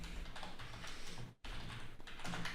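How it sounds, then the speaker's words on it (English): Steady typing on a computer keyboard, entering a short line of text, with a continuous run of close, soft key clicks that breaks off briefly in the middle before resuming. "all we want to type here is change your photography game"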